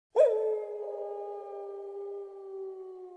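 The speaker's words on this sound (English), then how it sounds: "Once, she heard a wolf in the trees." A single long wolf howl, used as a sound effect for a wolf in the trees, rises sharply and then holds a steady tone for about three seconds. The howl is clear and fairly loud, with no speech.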